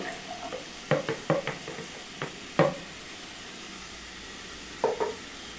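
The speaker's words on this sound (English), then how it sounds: "Now heat 1 tablespoon of oil in a pan and add cauliflower." Cauliflower hits hot oil in a pan, giving soft scattered sizzles and a few stirring clinks, faint and intermittent with no talking.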